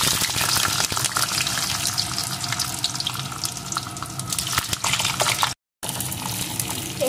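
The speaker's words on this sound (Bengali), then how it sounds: "এখন আমি ওই পটলগুলোকে দিয়ে একটু ভেজে নেব।" Pointed gourd (potol) pieces fry in hot mustard oil in a wok, a loud, close, gushing sizzle with scattered crackles, broken by a brief silent gap before the frying resumes.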